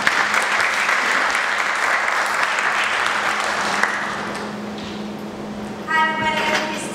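An audience applauds loudly for about four seconds at an event, the clapping then thinning and fading, and a voice begins speaking as it dies away.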